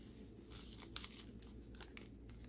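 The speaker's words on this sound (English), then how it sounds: "They're paper packets, easy to open." A small paper packet of grapefruit drink-mix powder is torn open close up, quiet crinkling and a few sharp rips at about one second and near the end, with no talking.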